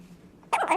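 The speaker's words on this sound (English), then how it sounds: "Oh, and the hiccups are still here." A single sharp hiccup from a person named in the surrounding talk, a short loud burst that follows near-silence, heard alone and up close.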